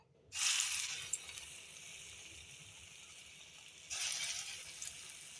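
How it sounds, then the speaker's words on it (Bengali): Lentil (matar dal) fritters with pumpkin shoots drop into hot oil, bursting into a soft steady sizzle that fades slightly, then a second fresh hiss as more batter goes in. "তেল বসিয়ে দিয়েছি গরম হয়ে গেছে তেল বসিয়ে দিয়েছি তেলে আমি এখন বড়াগুলো দিয়ে দেব"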